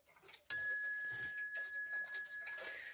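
A 1974 Hermle wall clock with a cast iron front strikes once on a bell, a sharp metallic ring that rises suddenly and then hangs in a long, slowly fading sustain.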